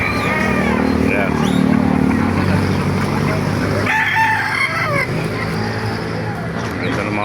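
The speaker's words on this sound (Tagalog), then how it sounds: "Ganda ng mga manok, oh." Roosters and hens at a live chicken market in Baliuag, Bulacan, crowing and clucking in a busy mix, with talk and passing motorbike noise in the background throughout.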